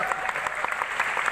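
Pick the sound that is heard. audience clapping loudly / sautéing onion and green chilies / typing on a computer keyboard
audience clapping loudly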